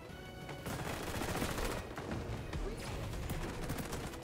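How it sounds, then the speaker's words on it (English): Rapid gunfire from a marksman rifle in the shooter game XDefiant on the Rockefeller map, a dense run of sharp shots layered over busy game noise at low volume. "Is he using a marksman's rifle on Rockefeller?"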